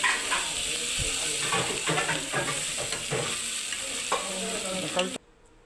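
Green chilies, tomato and curry leaves sizzle in a hot pan while cooking beef varattiyathu, with a steady close frying hiss broken by scraping stirs, until the sound cuts off abruptly near the end.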